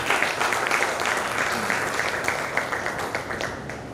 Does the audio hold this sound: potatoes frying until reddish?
no